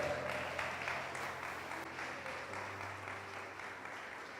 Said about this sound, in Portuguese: Você pode aplaudir ele mais uma vez?